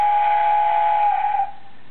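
The DX Travelion Magiranger toy train gives a short electronic whistle effect, a bright steady tone that lasts about a second and a half and then cuts off abruptly, played alone from a small speaker.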